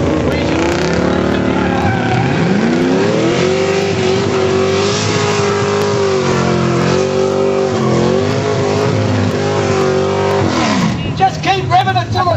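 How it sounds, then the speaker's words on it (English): Drag racing cars rev hard at the 2007 Innisfail airstrip meet, a loud, steady engine drone whose pitch climbs and dips through repeated throttle blips before easing off near the end. "Just keep revving until the valves jump out."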